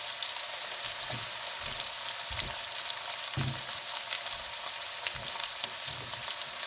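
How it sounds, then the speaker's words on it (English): Red potatoes frying in a pan, a constant close sizzle and crackle with soft low knocks and stirring bumps now and then, no voices. "I'm going to fry those up and get them nice crispy and crispy brown color to them."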